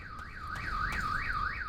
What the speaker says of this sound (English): Oh wow, the car alarm went off